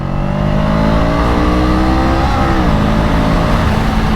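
A Honda Rebel 500 motorcycle engine revs hard and climbs in pitch as it accelerates, briefly dipping at a gear change into second before pulling on, close up.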